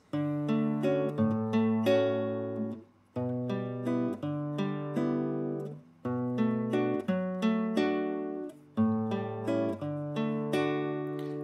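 Acoustic guitar chords fingerpicked in a steady 3/4 rhythm for the hymn "All to Jesus I Surrender," with notes ringing over one another; played alone with no voice.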